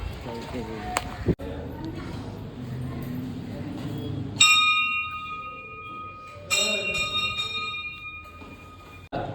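A temple bell is struck twice at a village jatra fair, each ring sounding clear and metallic before fading, with people talking softly around it.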